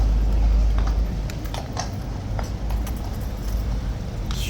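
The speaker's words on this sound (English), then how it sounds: "one horse is darting out, look at that." Horse hooves clip-clop on pavement at Horse Guards as one horse darts out during a changeover, a steady clatter of hoofbeats over constant outdoor crowd and traffic noise.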